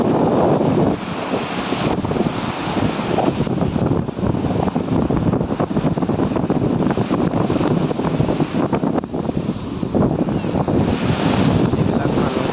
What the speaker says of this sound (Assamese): কেনেকুৱা ঢৌ আহি আছে